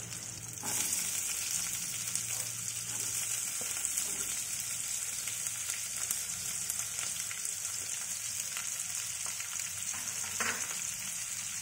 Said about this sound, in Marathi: छान असं आपल्याला फ्राय करायचं याला आणि थोडंसं जर फ्राय व्हायला लागलं की आपल्याला यामध्ये कांदा ॲड करायचा आहे